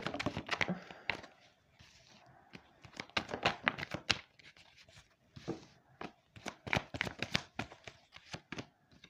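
A deck of oracle cards being reshuffled by hand, with quick bursts of riffling and slapping card sounds in an irregular rhythm, close and fairly quiet, with no talking.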